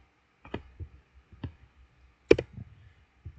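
A few keyboard keystrokes tapped close by, sparse and separate, ending in a louder, sharper press of the enter key, with a faint low hum in the background.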